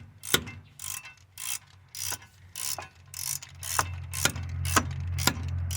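Ratchet wrench clicking through repeated strokes on an engine part of a GM C1500 pickup, a steady run of close, sharp ratcheting bursts with no talking.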